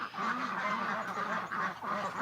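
Ducks quack and honk in a continuous, loud, close-up chorus of overlapping nasal calls, with no talking over them.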